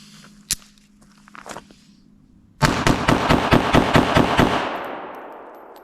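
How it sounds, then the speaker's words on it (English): Bodyguard 2.0 .380 pistol emptying a magazine of full metal jacket rounds, a loud burst of about ten rapid sharp shots in quick even succession after a couple of faint knocks, with no talking. "let's go ahead and just mag dump this out, see how she does when she's got some heat to her"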